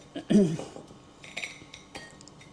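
Utensils scrape and clink against a dish while parmesan crust ingredients are mixed, with a few close, short knocks and clatters spread over a couple of seconds.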